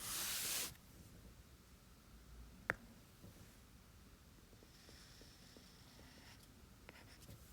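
A pen draws a parabola graph on paper with a faint, quiet scratching sound over low background hiss.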